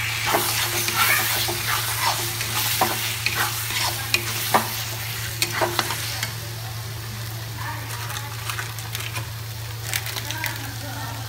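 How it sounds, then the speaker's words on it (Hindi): Fried mushrooms in masala are stirred in a hot pan, giving repeated scraping and clacking strokes over a steady oil sizzle, with a brief spoken bit. "अब इसमें मैंने जो मशरूम फ्राई किया था वो डाल देंगे और साथ में चलाएंगे।"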